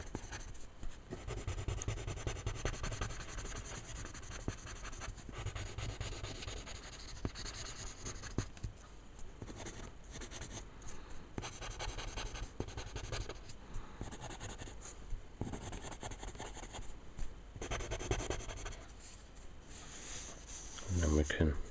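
Prismacolor colored pencils shading dark areas of a minotaur head drawing on paper, continuous close scratchy strokes in a steady back-and-forth rhythm, with a voice talking quietly over it.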